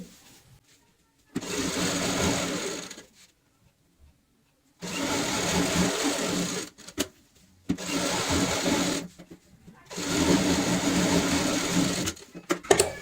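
Sewing machine stitching a cushion cover, running in four separate bursts of rapid mechanical whirring, each a few seconds long and close, separated by near silence.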